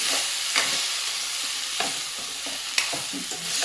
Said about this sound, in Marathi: तर अशा प्रकारे आपण वांगे आणि बटाटे आपण मसाल्यामध्ये मिक्स करून घेऊया.